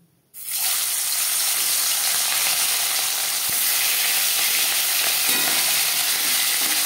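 Parshe fish, rubbed with salt and turmeric, lands in hot oil and bursts into a loud, steady sizzle that starts abruptly and holds evenly throughout, close up with no talking.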